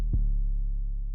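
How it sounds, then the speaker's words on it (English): A single deep 808 bass note from a Trippie Redd-style trap beat rings out loud and alone, a sustained low boom that fades slowly after the attack. "the Big 14 808 rings out. It doesn't end where the note ends."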